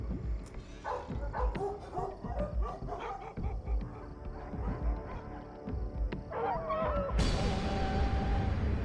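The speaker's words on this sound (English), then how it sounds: "They heard the yelp of the dog" Dogs bark and yelp in sharp, repeated bursts outdoors amid honking geese and other animal calls, with a louder rush of noise near the end.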